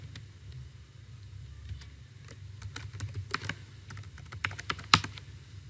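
Someone types a password on a computer keyboard, irregular quiet key clicks that grow busier toward the end, with a few sharper taps standing out.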